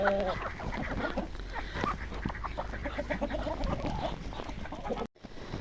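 Chickens and ducks cluck and quack in a busy, overlapping chorus while eating grass, close by and fairly loud, with a brief dropout near the end.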